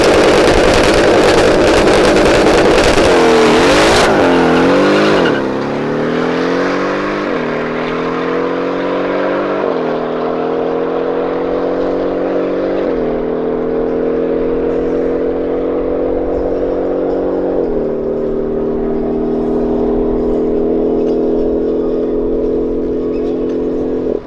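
A Nissan GT-R engine revs hard and accelerates, its pitch climbing through several gear changes with short dips between each shift, loud and close, then settling into a sustained high drone.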